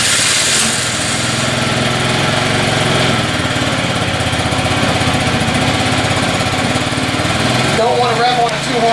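Scooter engine, just prepped with an oil change, running loud and close with a buzzy steady drone after starting, briefly changing pitch near the end, no talk.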